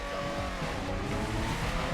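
Loud, steady engine roar with tire squeal from a car in circuit racing in the GRID Legends video game, continuous and dense for about two seconds.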